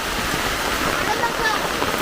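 Summer rain pours steadily outdoors near a house, a dense even hiss that stays constant and fairly loud throughout.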